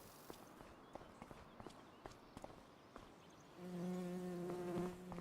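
A virtual bee in Farming Simulator 25 buzzes loudly for just over a second, following a run of faint, regular footsteps that come before the buzzing starts.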